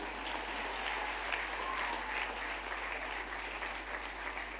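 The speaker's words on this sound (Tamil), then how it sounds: "இவ்வளவு கம்மியாக கைதட்டுற கல்லூரியை இது மட்டும் நான் பார்த்ததே இல்லை" College students at a college day event in hot sun, seated under a red carpet canopy, give a thin, steady round of applause at moderate distance, continuous throughout with no voices.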